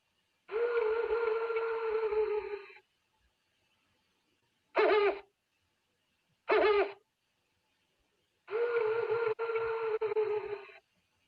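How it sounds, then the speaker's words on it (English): An owl hoots at night in a nature soundscape, with two long hooting calls and two short bursts between them, loud and close against silence. "I'm thinking some sort of owl"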